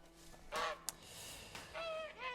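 A goose in the video game A Plague Tale: Innocence honks several times in short, nasal calls, fairly close, with a brief click in between and a faint background hum.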